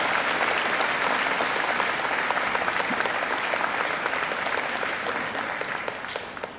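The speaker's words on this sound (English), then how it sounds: "Let's give Angela another great round of applause." Graduation ceremony audience applauding a singer, a broad, even roar of many hands in a large hall, holding steady and then tapering slightly at the end.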